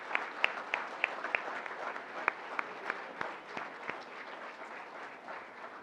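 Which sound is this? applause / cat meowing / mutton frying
applause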